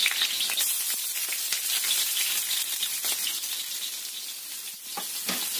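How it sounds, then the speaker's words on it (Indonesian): Shallots, garlic and galangal sizzle steadily in hot oil, a close, continuous crackling hiss with small pops, with no voices over it. "Setelah panas, ini kita masukkan dulu bawang merah, bawang putih dan lengkuasnya juga ya."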